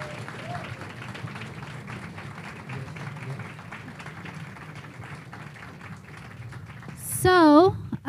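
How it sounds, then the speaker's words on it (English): Audience applause at a book talk with Noam Chomsky and Vijay Prashad, a steady round of clapping from a seated crowd lasting several seconds, ending with a brief voice near the close. "Let's have another round of applause for Vijay"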